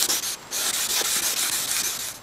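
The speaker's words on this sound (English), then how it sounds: "Now after you're wet sanding for a bit, you will notice there is sort of a milky film that is coming off" Wet sanding a foggy plastic headlight lens by hand with fine-grit paper, a steady close scratchy rubbing in repeated back-and-forth strokes with short pauses between passes, alone without talk.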